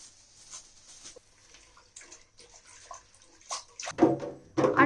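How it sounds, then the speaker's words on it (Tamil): Vegetables are swished in a large vessel of water with vinegar, quiet sporadic clinks and drips building into louder splashing and sloshing toward the end. "நெக்ஸ்ட் நம்ம வெஜிடபிள்ஸ் எல்லாம் கழுவிக்கலாம்"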